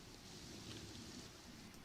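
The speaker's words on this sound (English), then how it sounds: "This hecking rain." Steady rain falling in The Sims 4, a continuous soft hiss of rainfall without voices.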